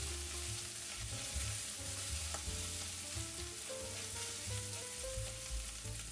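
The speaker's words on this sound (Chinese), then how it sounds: "就给1大勺郫县豆瓣酱，把酱炒香，炒出红油" Pixian chili bean paste frying in oil in a wok over low heat, a steady close sizzle with stirring scrapes and occasional tonal clinks running the whole time.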